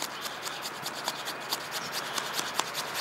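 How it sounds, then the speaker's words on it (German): A Real Steel H7 knife blade carves into wood, producing a steady series of close, dry rasping scrapes with rhythmic strokes and brief louder bites, no talking. "ich merke schon beim Schnitzen, also es beißt auch recht anständig"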